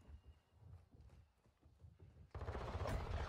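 Burst of gunfire from the online shooter Gunfight erupts loud and dense near the end, after a stretch of quieter game sounds and footsteps.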